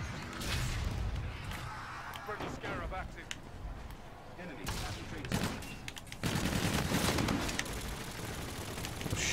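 Bombardment and gunfire in the shooter game Infinite Warfare: loud, dense bursts of rapid fire and explosive blasts fill the whole span. They swell toward the end, with someone talking over parts of it.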